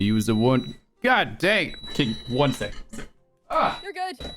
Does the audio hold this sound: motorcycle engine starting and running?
no